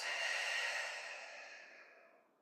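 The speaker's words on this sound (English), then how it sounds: "deep breath in. And open mouth exhale," A long, breathy open-mouth exhale during a yoga stretch, loud at first and gradually fading over a couple of seconds.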